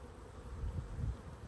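Honey bees buzz around an open hive during an inspection, a low, steady hum that swells a little in the middle as curious bees drift close.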